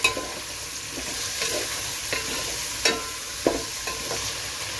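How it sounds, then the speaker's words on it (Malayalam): Sliced onions with a little salt sauté in a hot pan for chicken majboos, a steady sizzle under repeated stirring scrapes of a spatula, close and fairly loud. "നമുക്കിനി സവോള നന്നായിട്ട് വഴന്ന് വരുന്നിടം വരെ ഒന്ന് ഇളക്കി കൊടുക്കാം"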